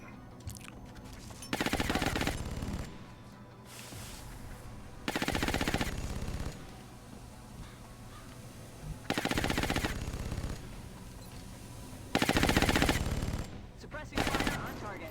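Bursts of rapid automatic gunfire from suppressing fire in the video game Long War, XCOM mod, come in four or five loud, evenly spaced volleys of about a second each, separated by quieter game ambience.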